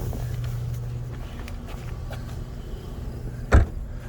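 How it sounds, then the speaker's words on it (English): Power lift gate of a black 2023 VW Atlas Cross Sport 3.6 SEL R-Line 4Motion, a low steady motor hum as the hatch rises, ending in a short soft thump, heard close with no speech. "It's going to be a power lift gate for the back."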